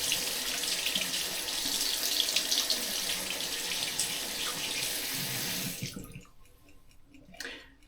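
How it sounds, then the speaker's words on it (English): Cold tap water runs steadily from a faucet into a sink while a dental night guard is rinsed, a close, loud rushing flow that cuts off abruptly near the end, leaving faint drips and handling noises. "And then you rinse it under cold water"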